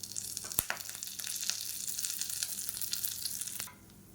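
Curry leaves and vadagam tempering in hot oil with mustard seeds, urad dal, cumin and dried red chillies: bright, crackling sizzle with sharp pops, steady for several seconds and then cutting off abruptly.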